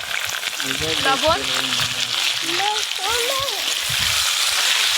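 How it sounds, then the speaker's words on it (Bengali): Potato pieces frying in very hot oil for a mutton dish, giving a steady, close hiss and crackle throughout while a person talks over it. "তেল খুব ভালো করে গরম হয়ে গেছে। মাংসের জন্য এবার আলুগুলো ভেজে নেব।"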